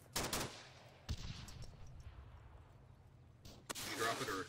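Gunfire in the Arma 3 video game during a co-op military exercise, with a burst of shots at the start, another around one second in, and a final loud burst near the end, each trailing into a noisy decay.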